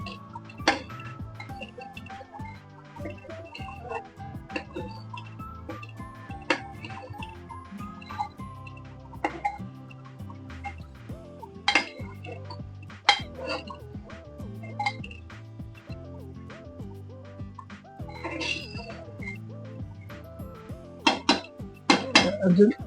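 Biryani masala for a prawn biryani is stirred in a cooking pot, a spoon clinking and scraping against the metal in irregular knocks, growing busier toward the end.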